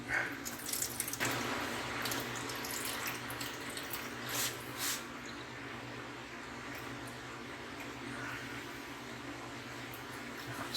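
Water running out of a desktop air cooler as it is tipped, a soft continuous splashing trickle with a few drips and clunks, fairly quiet and close, no talking.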